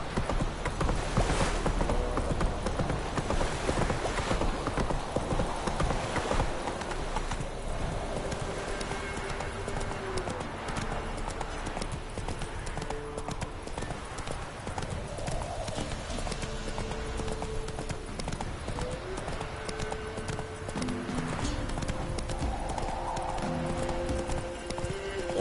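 Roach, a horse in the video game The Witcher 3: Wild Hunt, gallops with a fast, continuous run of hoofbeats over soft game ambience, with a brief whinny, and no one speaking.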